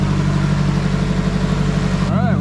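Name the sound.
Nissan S13 project car engine idling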